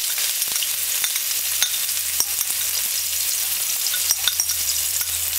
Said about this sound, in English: Just saute the onion.